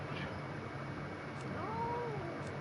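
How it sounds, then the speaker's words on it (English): A cat gives a single drawn-out meow, rising then falling, over a steady fan-like hum in a quiet room. "Meow. Shut up."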